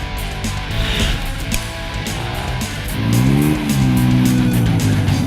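Polaris RZR XP Turbo, a 925cc turbocharged off-road buggy, engine droning steadily while off-roading, then revving harder and climbing in pitch for the final seconds, loud and close with no voices.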